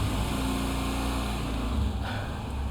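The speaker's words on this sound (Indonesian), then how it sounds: "Ada motor berisik banget." A noisy motorbike passes outside, its engine a loud, continuous drone that fills the room and barely changes pitch over a few seconds.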